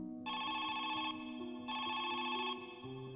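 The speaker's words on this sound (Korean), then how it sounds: "이때 집 전화가 울리고" A home telephone bell rings in two loud, bright bursts with a short pause between them, used as a sound effect in a Korean horror radio drama; a low hum runs underneath and no one speaks.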